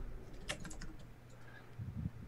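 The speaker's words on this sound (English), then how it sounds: "now I'm typing and it's not doing it." Quiet keystrokes tap on a computer keyboard in a short, uneven burst, faint and close with no voices.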